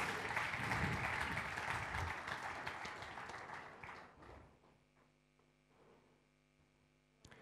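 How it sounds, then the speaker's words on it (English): A church congregation applauds itself during a sermon, dense clapping for about four seconds that thins and dies away, leaving a steady electrical hum. "Clap for yourself now."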